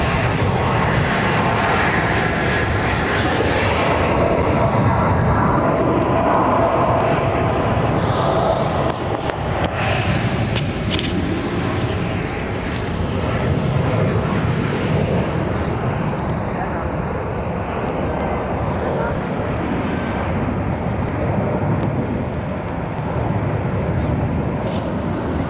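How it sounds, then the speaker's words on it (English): An American Airlines Boeing 787 Dreamliner takes off at Barcelona with a loud, continuous jet roar that holds steady and slowly eases, heard close and under intermittent commentary. "Rotate, American, rotate, and the wingspan of a Dreamliner."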